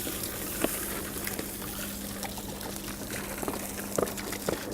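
Water is poured onto a burning ioSafe Solo drive, producing a continuous hissing, splashing pour with occasional small pops and knocks, moderately close and heard without speech.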